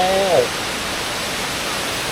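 A brief voice opens, then the steady full rush of Sai Yok Noi waterfall's final third tier in rainy-season Kanchanaburi carries on alone as an even, close wash of falling water.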